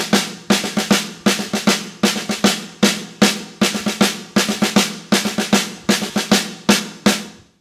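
A drum kit plays a groove with quarter notes, crisp close hits in a steady repeating triplet-based rhythm with cymbals ringing over the kick and snare.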